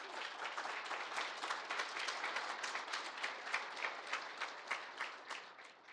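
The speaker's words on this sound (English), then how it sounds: "One person clap. Let's go." Audience applause after a talk at a tech conference, a fairly quiet, steady patter of many hands with individual claps audible, continuous for several seconds.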